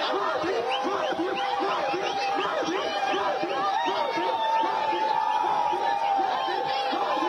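A roadside crowd at a rainy rally in Kolkata chants slogans for Modi, a dense, far-off wash of many voices rising and falling in repeated rhythmic bursts, with no single voice standing out.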